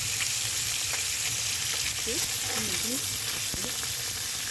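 Snakehead fish, rubbed with salt and turmeric, sizzles steadily in a hot pan, a loud, continuous frying hiss with faint stirring clinks and a brief low murmur of talk.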